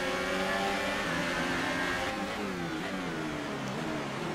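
Formula 1 race car engine in the F1 2018 video game during an online race at the Bahrain Grand Prix, a steady, loud, high-revving whine that shifts pitch as it climbs and drops through gears, with no voice over it.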